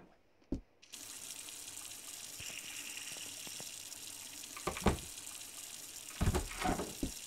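Tap water gushes steadily into a bath, a continuous hiss with a few splashes and clunks toward the end. No one speaks.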